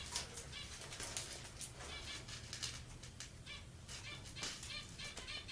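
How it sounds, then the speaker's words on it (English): Pet finches chattering and squawking indoors: a dense, continuous wash of high chirps and flutters, fairly faint, with no talking. "It's really my finches squawking."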